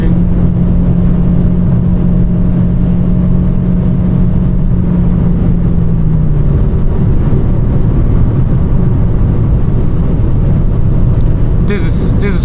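A 2024 Mercedes CLA 200 in sport mode pulls hard on the German Autobahn, its engine drone rising beneath a steady roar of road and wind noise heard from inside the cabin, with a voice speaking over it.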